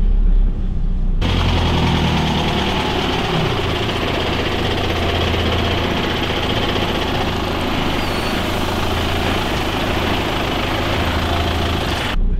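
A Unimog truck engine runs steadily and loud as the truck crawls off-road over a wall on a museum course, a continuous low rumble with heavy vibration throughout and no talk.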